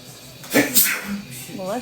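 A single short sneeze bursts out close by, and voices talk around it.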